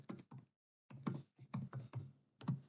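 Typing on a computer keyboard while entering an Office setup command: short clusters of close, crisp keystrokes in an irregular rhythm with brief pauses between words, and no talking.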